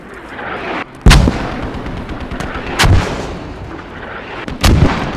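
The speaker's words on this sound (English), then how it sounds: "They're mortaring this vector." Mortar strikes land in a tactical multiplayer squad video game, three heavy booming impacts spaced a couple of seconds apart over a constant rumbling battlefield din.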